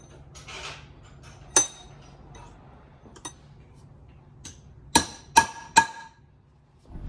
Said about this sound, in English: just a center punch so I can keep that drill bit center